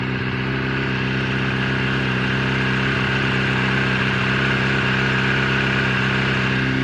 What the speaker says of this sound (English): let's get you close so you can hear the ignition